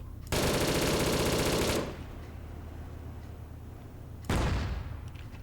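Loud automatic gunfire from the video game ARMA 3, set in Cold War Germany, fires in a sustained rapid burst of about a second and a half, followed by a quieter lull and another sharp, booming shot.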